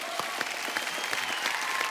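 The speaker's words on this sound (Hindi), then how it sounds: "एक बार जोरदार तालियां" A television studio audience claps for the Simmba star cast, a quick burst of fairly faint, crisp applause with distinct individual claps running steadily from start to finish.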